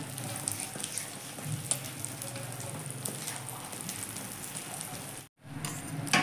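A bread omelette fries on a hot griddle with a soft, steady sizzle and faint crackles close by, quiet throughout and briefly cutting out near the end, with no talking.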